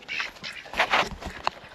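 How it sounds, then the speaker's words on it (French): Ducks quacking in a poultry yard as grain is scattered for them, a few short nasal calls close by in a brief burst with no talk. "Donc là les canards je leur mets un petit peu de grain."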